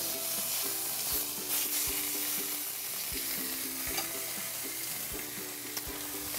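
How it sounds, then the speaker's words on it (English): Pork tenderloin sizzles and fries in a hot pan, a dense steady crackle with sharp pops and occasional clinks of a utensil, close and continuous with no talking. "that's the sound that you want to hear as you put that pork into the pan"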